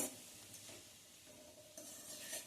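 A pea and coconut filling being sautéed in a pan, with a faint low sizzle and soft stirring scrapes, quiet and close, with no voices.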